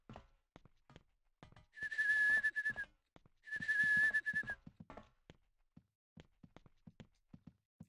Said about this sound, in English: How can we hear that whistling so loud out here?